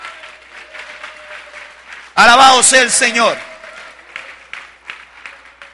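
A church congregation breaks into a loud burst of applause and cheering voices for just over a second, cutting in sharply after spoken preaching and fading back to talk.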